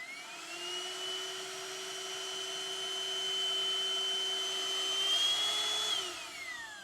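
A small handheld Temu cleaning vacuum runs alone at low level, a steady whining motor hum with a high tone that rises slightly before dropping away near the end.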